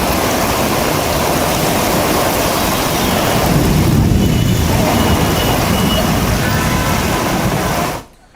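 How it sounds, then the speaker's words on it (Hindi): Floodwater rushes into an underpass in Panchkula where a car is stuck, giving a loud, unbroken torrent-like roar that holds steady and then cuts off abruptly at the end. "अंडरपास देखिए पानी से पूरी तरह से लबालब है और गाड़ी फंस गई है"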